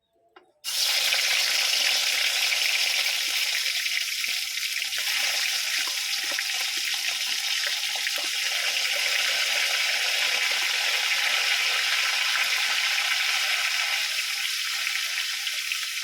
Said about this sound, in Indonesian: Pemirsa lanjut goreng ayam.